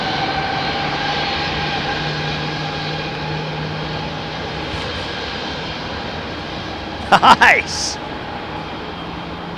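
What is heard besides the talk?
Qatar Boeing 777 landing at Heathrow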